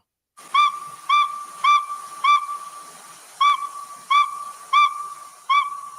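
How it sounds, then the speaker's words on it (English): A northern saw-whet owl gives repeated high whistled toots, about nine evenly spaced notes over a faint hiss, played back through a phone. "So that is the sound of what they call a northwestern saw-whet owl"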